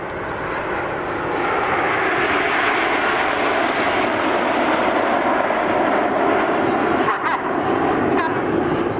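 Red Arrows jets fly in Diamond formation at an air show, a loud, continuous broadband jet roar holding steady throughout with no break.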